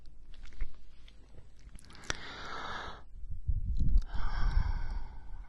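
A voice imitates a giantess's deep breath: a long breathy whispered inhale, a short pause, then a slow airy exhale with a low rumble. It sounds close and intimate.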